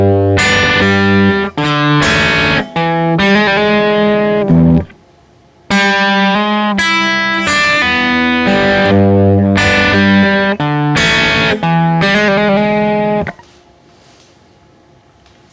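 Electric guitar riff from a song, played loud with a slightly distorted tone in rhythmic bursts with hammer-ons and pull-offs, short gaps between phrases, then letting the final notes ring out.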